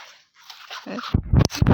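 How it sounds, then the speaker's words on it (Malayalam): A dog gives a few short, sharp yips and whines close by after a moment of near silence. "പട്ടിയുണ്ട്."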